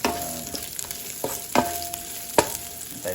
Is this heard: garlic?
yes